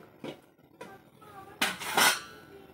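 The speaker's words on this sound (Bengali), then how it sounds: "এবার একটু 2 মিনিটের জন্য ঢেকে দেব।" A metal lid is set onto a pot of cooking dal, giving a few clinking knocks of metal on metal that build to a louder clatter near the end, close by with no talking.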